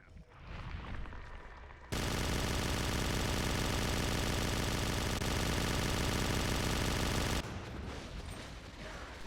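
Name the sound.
heavy machine gun firing in video game Natural Selection 2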